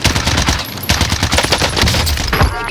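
Rapid automatic fire from a C58 rifle in a first-person shooter video game, loud dense bursts of shots crackling almost continuously with no talking.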